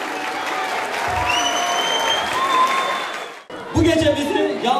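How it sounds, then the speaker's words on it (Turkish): Village audience at an evening event in Kışlacık, Vize, applauding the headman: dense, steady clapping from a crowd throughout, briefly dipping then swelling again near the end, with faint voices mixed in. "alkışlar değerli muhtarı için gelsin"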